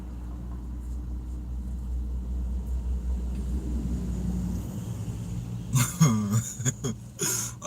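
Loud cars rumble past on a street, a low engine drone building over several seconds before sharper, revving engine bursts break through close by near the end.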